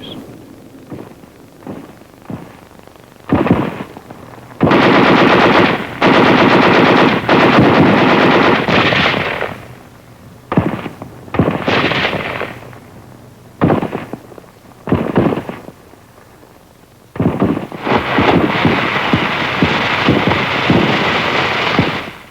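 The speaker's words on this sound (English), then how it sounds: "The natural hillside caves are fortified with machine guns or mortars." Machine-gun fire crackles through World War II combat on Okinawa, where troops clear fortified hillside caves and pillboxes: loud, dense rapid bursts repeat and overlap, with brief gaps between volleys and no voices.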